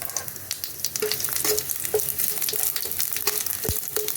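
Cumin, dried chilli, bay leaf and cinnamon temper in hot oil for a jackfruit and chickpea curry, giving a steady close crackling sizzle with small pops and occasional light clicks of a spatula.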